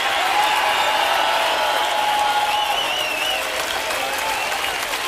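A concert crowd at Ledreborg applauds steadily for a band, a dense, even wash of clapping with scattered calls, sustained throughout without fading.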